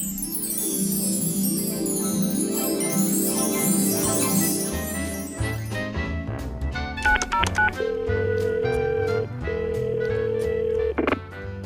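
Telephone keypad dialing: after a stretch of music fades, a quick series of short beeps is punched in, followed by a steady tone, heard alone without voices.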